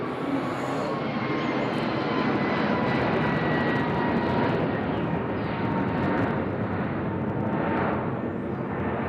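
A passenger airplane roars past at close range near Nashville International Airport, a steady loud engine rush holding for the full stretch with a faint rising whine, with no talking.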